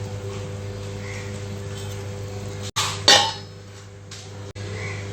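A metal lid is set onto a pot of simmering brinjal kuzhambu on the stove, one sharp clink with a brief rattle, over a steady low kitchen hum.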